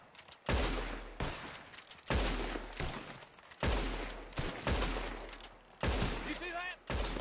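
Gunfire in a Red Dead Redemption 2 shootout: repeated heavy, booming shots in rapid bursts, loud and close, with short gaps, a brief voice at the end.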